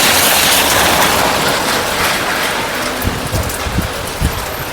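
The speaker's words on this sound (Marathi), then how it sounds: "आता परत पावसाला सुरुवात झाली आहे बघा." Steady rain falls with a dense, even hiss throughout, and a few soft low thumps come near the end.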